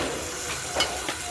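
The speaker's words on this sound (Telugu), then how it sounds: "కొంచెం నీళ్ళు పోసుకుందాం గ్రేవీ కోసం." Water poured into a hot pan of egg and tomato curry with chili powder hisses in a quick burst of sizzling steam, short and close.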